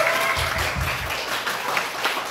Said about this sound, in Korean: 정말 기쁘시면 우리 하나님께 영광의 박수 한번